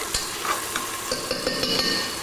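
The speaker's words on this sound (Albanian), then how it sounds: "Qepa u skuq. Një qepa u skuq." Onion frying in oil in a pan, a close steady sizzle broken by repeated scraping and stirring strokes of a utensil, with no talking.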